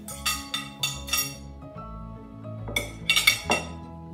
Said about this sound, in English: Now back into the crock pot it goes.